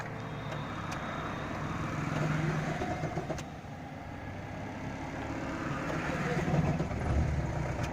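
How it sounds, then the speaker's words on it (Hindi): A manual-transmission car's engine runs at a steady idle during a driving lesson, a continuous close hum with slight swells and no pauses. "गाड़ी आपकी स्टार्ट हो चुकी है।"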